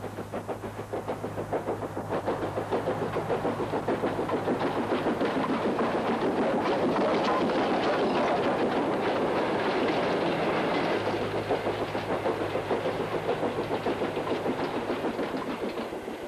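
A steam locomotive of the Austerity class hauls a train southbound through Northallerton, a steady, loud rumble and clatter of wheels on rails that builds and sustains throughout, with no voices.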